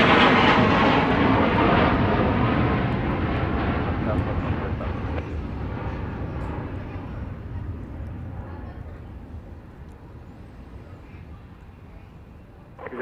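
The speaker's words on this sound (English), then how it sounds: "That was a Cessna Citation Longitude, a NetJets plane off to an unspecified destination." A Cessna Citation Longitude business jet operated by NetJets roars as it departs Dallas Love Field. The loud, broad engine rumble fades slowly as it climbs away, with faint voices underneath.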